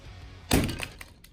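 Glass from an old computer cracks and shatters in one sharp, close impact as it is smashed, followed by a few small tinkling fragments settling.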